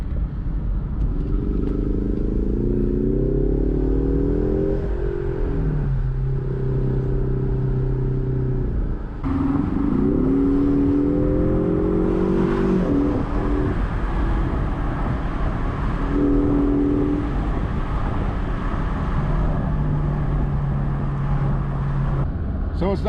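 Ford Mustang EcoBoost convertible with a four-cylinder engine driving, its engine note rising through gears in repeated acceleration pulls over a constant road rumble, with a person talking.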